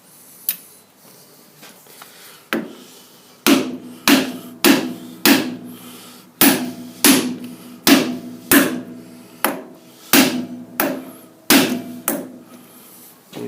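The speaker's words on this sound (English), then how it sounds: "I'm going to use this aluminium spacer and tap the inner race of the bearing" Bearing inner race being tapped onto a shaft through an aluminium spacer, a sequence of about a dozen sharp, ringing metallic hammer knocks at a steady pace, close and loud.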